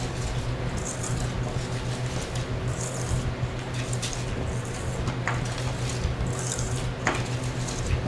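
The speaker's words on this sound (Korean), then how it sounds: "그런 다음에 콘스타치를 다 넣고 또 저어줄게요." A whisk stirs cornstarch into egg yolks and sugar in a bowl for a strawberry fraisier cake, producing continuous scraping and light clinking against the bowl with occasional sharper taps.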